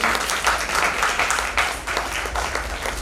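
Audience applause at an annual school cultural program, a steady wash of clapping from a crowd that stays fairly loud across the whole few seconds, with no speech over it.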